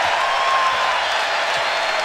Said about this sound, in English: Mignon Moore gets a nice round of applause as she goes to the bench.